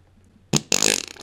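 A loud, wet cartoon fart from the big dog in the Scooby-Doo film: a short blast, a brief pause, then a longer sputtering, fluttering burst standing alone.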